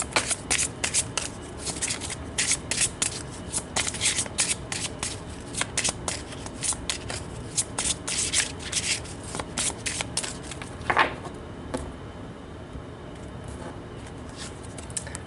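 Tarot cards being shuffled by hand in a quiet room, a steady run of quick papery riffles and slides that pauses briefly near the end, close and fairly soft with no talking.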